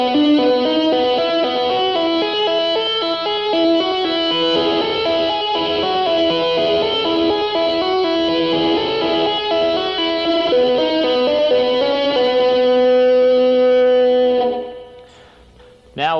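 A distorted electric guitar runs a fast melodic lick of quick, even notes, played loud and alone, fading out at the end.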